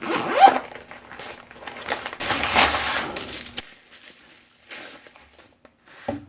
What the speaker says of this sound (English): As most do, they come with a nice little zippered case.